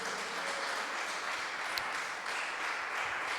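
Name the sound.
congregation applauding in church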